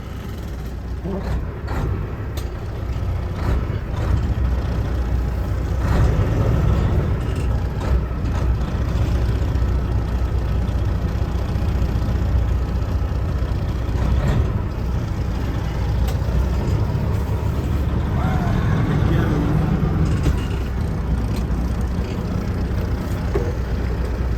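A Kenworth K100 truck driving, its heavy diesel engine a steady low rumble throughout with occasional clunks and rattles, close by, and faint voices in the background.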